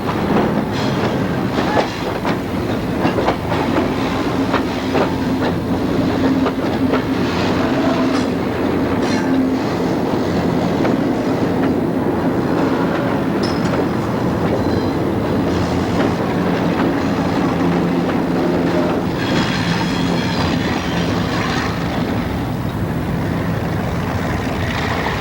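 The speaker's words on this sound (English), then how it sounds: "The same pusher set is again on the way north over the hill, this time shoving hard on the caboose of BM3." A heavy freight train shoved uphill by pusher locomotives rumbles steadily and loudly close by, with continuous wheel clatter and grinding from the rail cars throughout.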